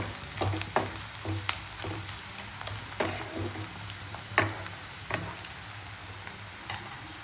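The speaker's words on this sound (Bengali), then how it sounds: "পেঁয়াজটা বেশ লাল লাল সুন্দর একদম ভাজা হয়ে গেছে" Onions fry in a small amount of white cooking oil for a chicken pulao, giving a steady low sizzle broken by sharp ticks and clicks of stirring. No one speaks.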